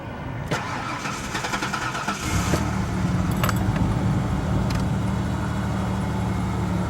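Ford Explorer engine cranking and catching after sitting four days, a short starter burst followed by a steady idle rumble, close by with keys jangling at the start.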